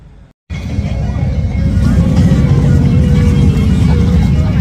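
Continuous loud engine roar of many motorbikes going by up close, steady and droning after a brief silent gap at the start.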